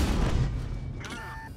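A tank cannon shot hits in the video game World of Tanks, a heavy boom with rumbling decay followed by short tonal game alert beeps.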